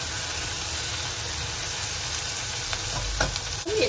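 Green beans stir-fry in a hot wok for a vegetarian dish with egg. A loud, steady sizzle and hiss continues throughout, with a few scraping stir strokes near the end.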